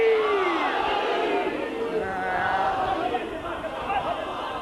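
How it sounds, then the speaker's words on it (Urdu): Crowd at a Shia majlis in 1991 answers the Nara-e-Haidari call with a sustained, massed shout that fills the clip, loud and reverberant. A lead voice rises above the crowd at the start. "نعرہ حیدری!"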